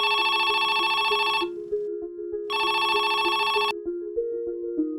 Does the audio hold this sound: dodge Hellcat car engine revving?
no